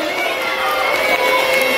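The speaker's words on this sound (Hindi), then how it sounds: "तालियां बजाए बच्चे" Schoolchildren cheer and shout at a sports week match, a loud, continuous crowd roar of young voices filling a brief burst.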